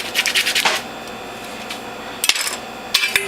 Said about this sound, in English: so I'm going to clean my grid again. Scraping it on both sides.